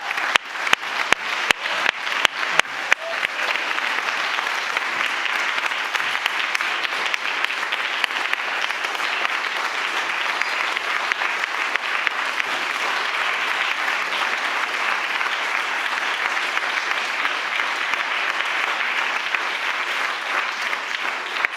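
A conference audience at a women's political gathering applauds a guest in the room: steady, dense clapping that fills the whole stretch at an even level, with a few sharper individual claps standing out at the start.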